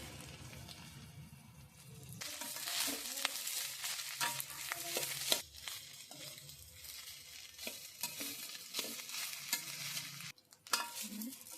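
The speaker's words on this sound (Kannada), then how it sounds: "ಅರ್ಧ ಹೋಳು ನಿಂಬೆಹಣ್ಣು ಹಾಕ್ಕೊಂಡಿದ್ದೀನಿ ಚೆನ್ನಾಗಿ ಮಿಕ್ಸ್ ಮಾಡ್ಕೊತಾ ಇದ್ದೀನಿ" Leftover rice, cumin and lemon juice are stirred and scraped around a hot pan for jeera rice, giving soft scraping strokes over a faint sizzle, with no talk.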